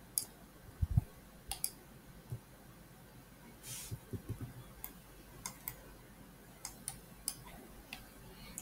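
Sharp, quiet computer mouse clicks are scattered irregularly over a soft background hum, coming singly and in small clusters.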